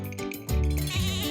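Sheep give a loud, wavering bleat that swells up after a brief quieter call, close and clear over faint light jingling.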